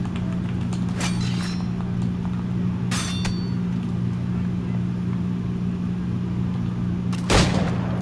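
Musket shots in Assassin's Creed 3, a few sharp cracks early on and one louder blast near the end, set against a steady low hum and ambient game noise.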